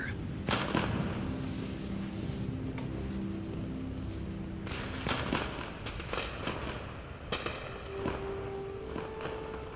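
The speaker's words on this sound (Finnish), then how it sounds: "Todennäköisesti läppiöt paukkuvat taustalla, kun ilotulitteet." Fireworks and firecrackers pop in the background of a Metal Gear Solid 3 game scene. The scattered, faint cracks and thumps come at irregular moments through steady ambient noise, with some voice present.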